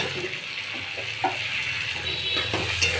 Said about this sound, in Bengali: এখন কেটে রাখা আলুগুলো আমি এই মশলার মধ্যে দিয়ে দেবো